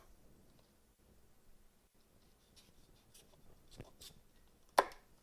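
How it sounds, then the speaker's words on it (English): A kitchen knife cuts the stem off a jalapeno on a board, heard as a few faint taps and scrapes ending in one sharp, close chop. "You want to cut that little stem off"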